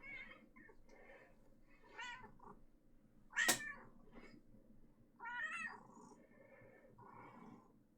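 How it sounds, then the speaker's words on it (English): Domestic cat meowing repeatedly nearby, several drawn-out cries and short chirping meows over about eight seconds, with one sharp loud yowl in the middle, against a quiet indoor background. "Heard that cat."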